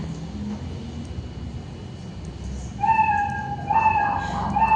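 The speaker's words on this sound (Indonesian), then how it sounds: "mainkan suara meow sampai selesai" A cat's meow sounds twice in the second half, with a short gap between, over a low steady background hum; nothing stands out before it.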